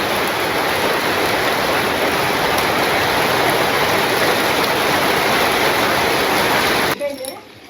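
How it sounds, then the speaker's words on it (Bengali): A sudden heavy village rainstorm pours down as a loud, close, rushing wash of water, steady for most of the stretch before cutting away abruptly near the end. "হঠাৎ করে ঝুপঝুপে বৃষ্টি"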